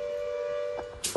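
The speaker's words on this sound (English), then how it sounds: "In Hebden Bridge in West Yorkshire, the flood sirens only sounded as the snow began to melt." A flood siren in Hebden Bridge, West Yorkshire, holds a steady wailing tone, heard briefly at moderate distance before louder bursts of other noise cut in near the end.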